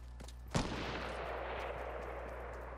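A single sharp sniper rifle shot in a video game cracks loudly, followed by a long decaying echo over a steady low background hum.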